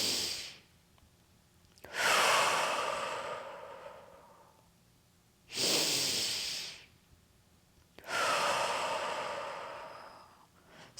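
Slow diaphragmatic breathing demonstration, with three long, loud, close breaths, each a rushing airy inhale or exhale lasting a couple of seconds, separated by quieter pauses.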